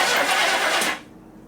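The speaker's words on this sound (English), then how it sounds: "Ooh, that makes a lot of cranking noise." A 1968 Chevrolet El Camino SS396 big-block engine cranks loudly with a rough, grinding whir for about a second, then cuts off, leaving a low rumble.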